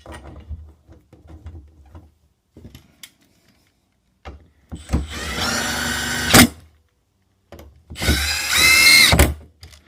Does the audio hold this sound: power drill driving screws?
yes